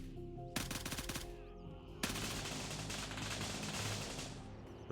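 Rapid bursts of automatic gunfire from the video game Gray Zone Warfare, loud and sustained, with a dense volley opening up halfway through and continuing to the end.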